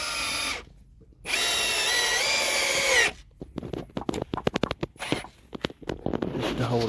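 A cordless power drill driving screws into wooden boards on a backyard chicken coop roof, two long whirring runs followed by rapid clattering bursts and knocks, loud and close.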